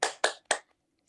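Three quick, sharp claps from a class doing a rhythmic spirit clap in a school lesson, evenly spaced, close and fairly faint, followed by a short pause and the start of another clap.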